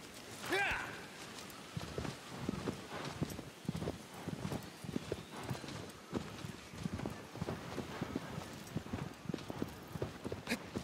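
Horse hooves clip-clop in a steady galloping rhythm across open ground in the video game Shadow of the Colossus, close and continuous, with a brief whinny near the start and light background music.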